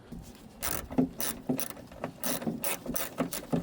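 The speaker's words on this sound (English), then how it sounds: "Let's get these 2 bolts in the side." Bolts going into a Toyota Yaris MK1 door strap with a ratchet: a steady series of about eight sharp, close mechanical ratchet clicks in an even rhythm.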